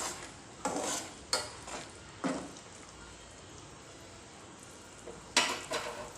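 Fish curry gravy with cumin paste bubbling hard in a pan, a soft steady simmer broken by a few brief clinks and stirring scrapes, close and fairly quiet, no voices.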